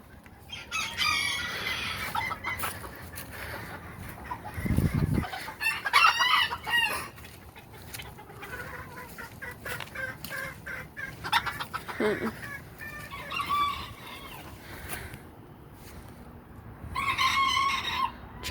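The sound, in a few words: rooster crowing and chickens clucking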